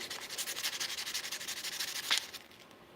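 Wooden handles being sanded by hand give a steady, rhythmic scratchy rubbing, close and moderately quiet, repeating in quick even strokes with no talking.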